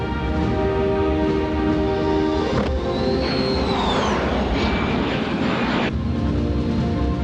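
Airplane engine noise, a loud continuous roar with a whistling tone that sweeps through the middle of the stretch before settling back to a steady drone, with no voices.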